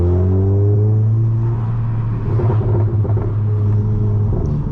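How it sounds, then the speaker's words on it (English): Tuned VW Mk7 GTI with a Stage 2 Integrated Engineering tune, revving loudly and close by in neutral, its steady low engine drone climbing and rumbling throughout without any talk. "in neutral you can rev it all the way up"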